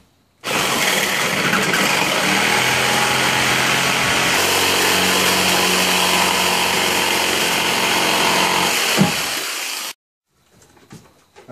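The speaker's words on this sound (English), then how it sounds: "it's time to use a jigsaw to cut out this inner shape right here" A jigsaw cuts out the inner shape of a router table, its steady buzzing drone close and loud for about nine seconds before stopping abruptly into near silence.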